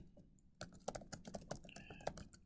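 Keys clack on a computer keyboard as data is entered into an Excel spreadsheet: a short, close burst of irregular taps that starts after a brief pause and has no talk over it.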